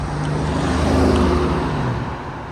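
Cars passing on a road at night, a loud steady traffic roar with engine tones sweeping by and fading, close and continuous, no voices.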